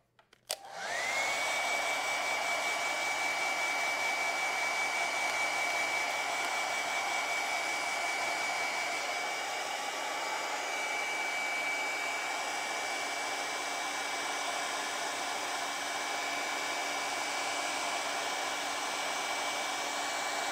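Hair dryer blowing on wet acrylic paint, switching on abruptly and then running as a loud, steady whirring roar with a constant high whine for the full length.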